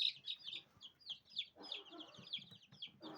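Young chicks cheeping in quick high-pitched bursts, repeated rapid peeps close by with faint handling noise underneath and no talking.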